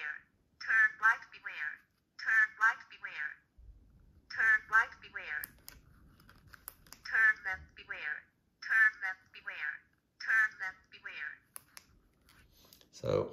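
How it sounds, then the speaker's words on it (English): A smart bike helmet's blinker indicator repeats a chirping electronic tone in short, evenly spaced bursts, fairly faint, with a brief rustle partway through. "It does make that sound to tell you that the blinkers are on"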